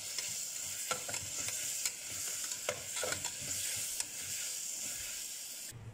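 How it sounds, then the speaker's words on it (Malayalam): Carrots sauté in masala in a hot pan, giving a constant close sizzle with light stirring scrapes throughout, and the sound cuts off just before the end. "ആ ക്യാരറ്റ് കൂടി ഇട്ടിട്ട് നന്നായിട്ട് വഴറ്റി കൊടുക്കാം."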